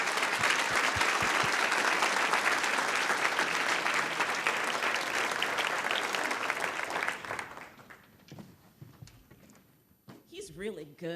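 An audience at an awards ceremony applauds an award recipient, dense sustained clapping that fades out after about seven seconds, followed by quieter room noise and a voice.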